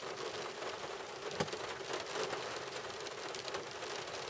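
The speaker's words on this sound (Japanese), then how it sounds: "今日はちょっと雨なんで" Rain falls outdoors in Alaska as a soft, even, continuous patter, quiet and steady throughout, with one faint tap partway through.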